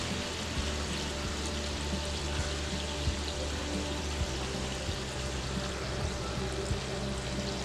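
Karanji, sweet pastries stuffed with puran or besan filling, are deep-frying in oil over medium heat, producing a steady, dense bubbling sizzle throughout, with faint knocks beneath.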